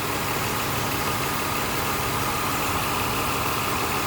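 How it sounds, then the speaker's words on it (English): A 2007 Ford Escape XLT engine runs loud and close, a steady idle swelling as the throttle is blipped slightly, with no voices over it. "You kind of rev it a little bit."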